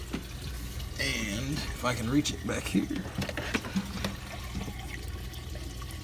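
Water trickling from an aquarium drip system into a fish tank in a fish room, a steady soft flow running throughout beneath someone talking close by.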